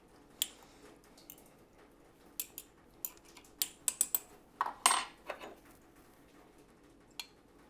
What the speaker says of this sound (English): giving it a good stir so that some of those white pieces can float to the top.